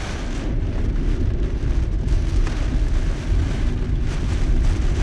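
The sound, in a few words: heavy rain during a typhoon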